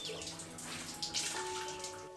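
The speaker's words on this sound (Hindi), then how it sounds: "देखो कितना गंदा पानी निकल रहा है।" Dirty water runs and splashes steadily out while clothes are washed by hand, a continuous close gushing with faint background hum.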